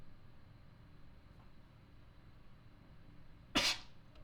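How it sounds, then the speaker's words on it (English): A single sharp sneeze bursts out close by after several seconds of quiet background hiss, then fades quickly. "I gotta sneeze"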